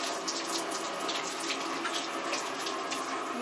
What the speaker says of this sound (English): wonderful shower with a view.